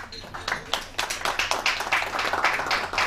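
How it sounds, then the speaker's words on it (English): Light, uneven clapping from a small audience at a chamber of commerce business event, with separate claps audible at close range and talk running underneath. "Can we please give him a round of applause?"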